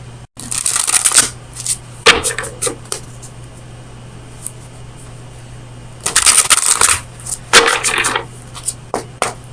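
Oracle cards from the Oracle of Visions deck being shuffled during a tarot reading, two close bursts of riffling and shuffling separated by quiet pauses over a faint steady hum.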